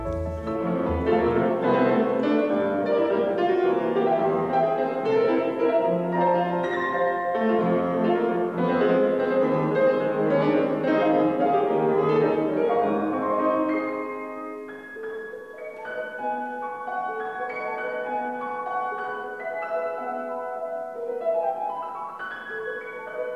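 Recording of Saint-Saëns' waltz Vals Canariot, a melodic instrumental piece with rich harmonics, playing continuously, fuller for the first fourteen seconds, then thinner and softer.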